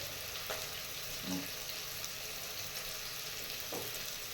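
Onion and tomato frying in a pan make a soft, even sizzle with faint stirring clicks, quiet and steady throughout, without speech.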